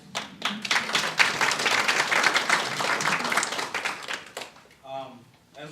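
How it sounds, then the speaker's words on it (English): An audience applauds military veterans at a workforce event, a dense wash of clapping lasting several seconds before it thins out, with a speaking voice over the tail end. "Can we give you applause?"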